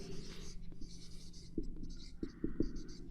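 Pen writing a definition by hand on paper for a math lesson on matrices, soft scratchy strokes and a few light taps, quiet and close, with no talking.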